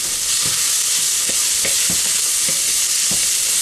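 Vegetables for spicy Mexican rice fry in a hot pan with a dense, loud sizzle that runs throughout. Soft knocks of stirring come at irregular moments, with no talking.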